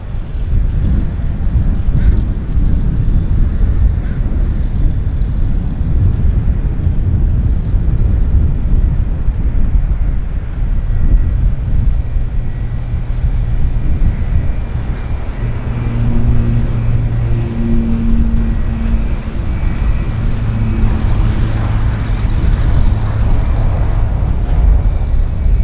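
Several aircraft taxi toward the runway at Vancouver Airport, a steady low engine rumble with wind noise throughout and a faint droning tone rising later, no talking.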